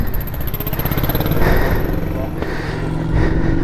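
An S40 Boulevard motorcycle runs around the Hampton Downs circuit during a rider training track day, its loud, steady, pulsing engine drone heard up close with a voice talking over it.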